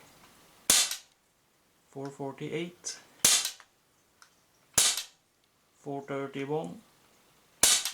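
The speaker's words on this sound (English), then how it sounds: "At least it is a quiet airgun, not much noise." A Cybergun FN Herstal M4 BB airgun fires four sharp, quiet single shots spaced a second or two apart, with someone speaking numbers between shots.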